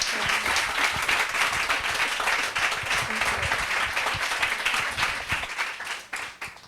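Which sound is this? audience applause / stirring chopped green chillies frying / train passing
audience applause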